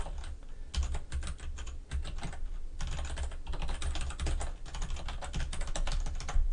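Rapid, steady clicking of fingers typing text on a computer keyboard, close and clear, with a few brief pauses between bursts of keystrokes and no talking.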